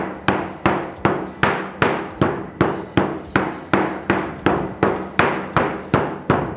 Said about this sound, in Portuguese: Vou dobrar a outra parte e aí vou vir com um martelinho culinário.